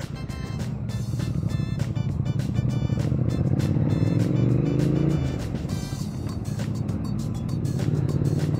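A Triumph Speed Twin motorcycle, 900 or 1200, with its engine droning steadily and loudly during a ride, a rising tone around the middle, with wind and road noise mixed in and no voices.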